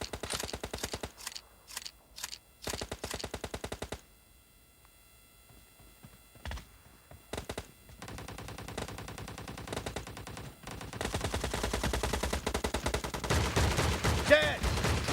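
Video game team deathmatch gunfire, rapid bursts of sharp shots separated by pauses, then denser continuous firing and clattering toward the end, fairly faint overall.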